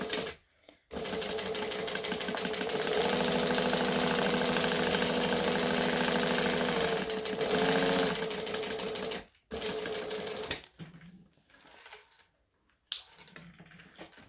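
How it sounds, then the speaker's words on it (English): A sewing machine stitches and backstitches through vinyl in a long, steady, close whirring run of about eight seconds, followed by a couple of shorter bursts with pauses in between. "So we're going to stitch"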